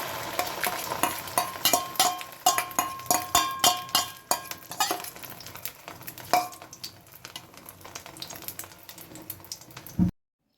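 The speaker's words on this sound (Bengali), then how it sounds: "ঝটপট করে ডিম ভেজে দিলাম" Eggs fry in a pan with a steady crackling sizzle, punctuated by sharp scraping and tapping strokes as they are turned, growing quieter in the second half before cutting off abruptly.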